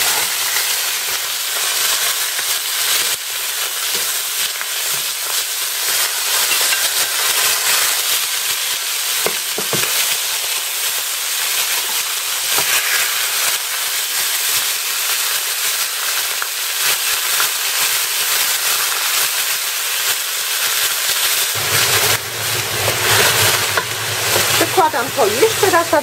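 Beef and vegetables fry in a pan with a steady, loud sizzle and crackle, and stirring clatters now and then. A low hum joins near the end as the sizzle intensifies.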